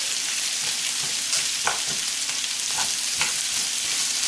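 Large torn mushrooms fry and caramelize in a hot pan, giving a steady, dense sizzle with a few faint clicks of stirring and no voices.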